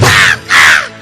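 Two loud, harsh crow caws in quick succession within a song at a village Ganesh puja festival, each a raspy drawn-out call with a short gap between them.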